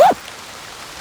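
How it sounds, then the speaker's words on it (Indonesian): Rain falls suddenly in a forest as a steady, close hiss, with a brief voiced sound at the very start. "tiba-tiba hujan setelah saya membuka portal gaib atau gerbang gaib daripada makhluk itu"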